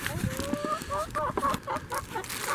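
Hens clucking in a backyard flock after laying an egg, repeated rising and falling calls close by, with power tools and construction noise from yurt drip-edge work underneath.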